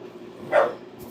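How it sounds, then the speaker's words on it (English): A single dog bark, short and fairly faint, from a distance inside a home kitchen. "If you can hear the dogs in the background barking"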